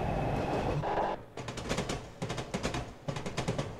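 A Class 47 diesel locomotive runs in the Train Simulator game, a loud rumbling engine drone that drops away into rhythmic clickety-clack wheel beats over rails, heard alone without talking.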